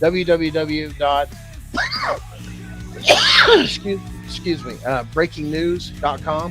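A single sharp sneeze bursts out in the middle of ongoing talk among several speakers in a studio, close and brief.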